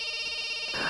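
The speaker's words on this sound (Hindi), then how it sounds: "अरे बार बार फोन बज रहा है, उठाते क्यों नहीं हो?" A telephone rings steadily and fairly loudly in a scene from a Hindi-dubbed South Indian horror film, a bright electronic tone filling the whole brief moment with no speech.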